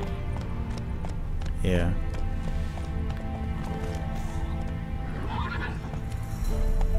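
Horse galloping and neighing in The Witcher 3, a loud whinny followed by steady clip-clopping hooves over game ambience, with someone speaking briefly.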